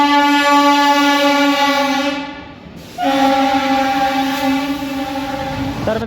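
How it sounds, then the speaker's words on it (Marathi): Amravati–Pune Express pulling out of Akola Junction at night, a steady loud hum with strong tonal harmonics from the locomotive, briefly dipping then resuming, ending in a rising burst of noise. "9:50 आपली अमरावती पुणे एक्सप्रेस निघालेली आहे अकोला जंक्शनवरून"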